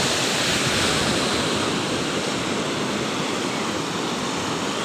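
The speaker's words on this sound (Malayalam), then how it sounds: "ഇവിടെ നിന്ന് വേസ്റ്റ് വെള്ളം പോകുന്നുണ്ട് കേട്ടോ ഈ വെള്ളം നേരെ ചെന്ന് കടലിലേക്ക് പോകുന്നത്" Steady, loud rush of waste water flowing straight into the sea at a Kozhikode beach, broadband and continuous, like a strong outflow pouring into surf, with no voices.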